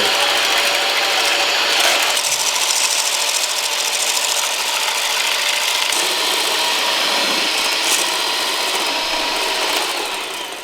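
An electric hand mixer whisks egg whites into stiff-peaked meringue for a fluffy soufflé omelet, a steady loud whirring drone running continuously throughout with slight shifts in pitch as the beaters move through the foam.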